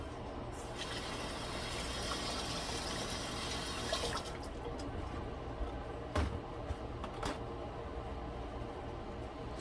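Tap water runs steadily over fresh raspberries being rinsed in a kitchen, a continuous close splashing wash with a few brief clinks partway through and no talking.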